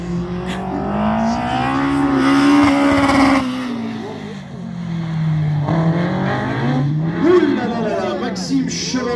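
A Martini racing car at an autos slalom event in Ancenis accelerates across grass, its engine rising and falling in pitch as it revs, loud and close, under an excited commentator's voice.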